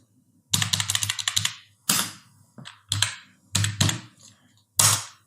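Typing on a computer keyboard during an HTML lesson: close, clattering bursts of keystrokes in five short clusters separated by brief pauses, loud and clear with no talking.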